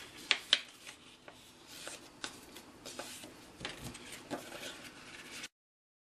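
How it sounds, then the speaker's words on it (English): Designer paper for a Stampin' Up! four-fold birthday card is folded in half on a craft table, giving soft crisp creasing and rustling with a few sharp paper snaps near the start, close and fairly quiet with no talking. "we're going to go ahead and fold the designer paper also in half."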